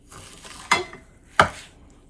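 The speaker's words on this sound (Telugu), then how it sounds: "ఇప్పుడు ఈ స్ప్రెడ్లో ఈ వర్మిసెల్ యాడ్ చేసుకుంటున్నాను. కొంచెం బ్యాచెస్గా యాడ్ చేసుకుంటూ మిక్స్ చేస్తాను," A utensil mixes vermicelli into pistachio spread for homemade Dubai-style chocolate, making two crisp clinking scrapes in an otherwise quiet kitchen.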